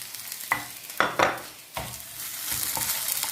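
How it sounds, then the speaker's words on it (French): A spoon scrapes and stirs garlic cloves into a stuffing mixture sizzling in a frying pan, in several close strokes over a steady fry. "on remue. On rajoute les 2 gousses d'ail de tout à l'heure"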